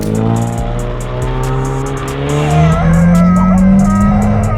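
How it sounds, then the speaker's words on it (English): A customized Ford Focus drifts with a loud, sustained tire squeal that rises and wavers in pitch over a steady engine roar, close and continuous. "Then man's even took a ugly Ford Focus like this, got it customized, and took fans drifting in it."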